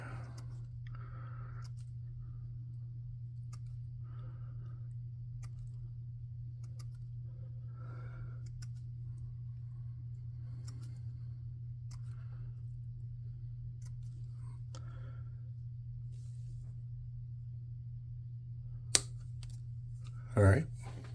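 Scissors cutting cardstock into tiny squares, with faint, sparse snips and rustles spread over a steady low electrical hum, close but quiet, and a sharper click and thump near the end.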